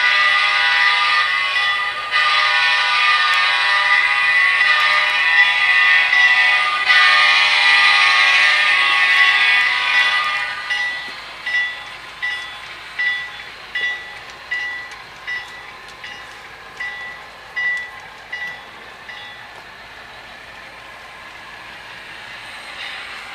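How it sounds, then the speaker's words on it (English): A model train runs along a detailed model railroad layout, starting with a loud, high whining motor drone, then fading into a string of light, evenly spaced rail clicks as it moves off. "A train now passes through an area known as the Avondale Industrial Complex."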